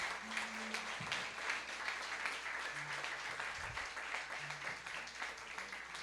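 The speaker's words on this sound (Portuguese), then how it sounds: "Aplauda Jesus pela vida de todos" Clapping from a worship gathering praising Jesus, steady and fairly faint, with a low hum and scattered voices underneath throughout.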